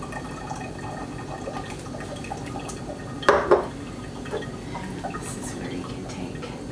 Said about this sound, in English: as I add this kombucha, it'll kind of go down in there with it